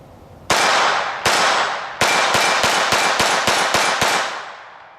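A Ruger SR22 pistol fires CCI 36 grain MiniMag ammunition outdoors: roughly ten loud, sharp shots, the first few spaced apart and the rest in a quick, steady string, each with a ringing decay.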